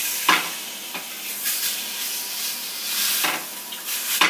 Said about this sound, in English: So just warming up the fish a little bit on both sides.